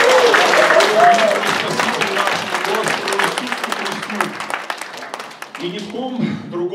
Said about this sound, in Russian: Аплодисменты великому Богу!